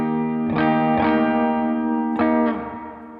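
A guitar chord strummed through a dream pop effects preset in Logic Pro rings out sustained and shimmering, with a few separate strums swelling into a washy, reverberant tail, loud and close with no voices.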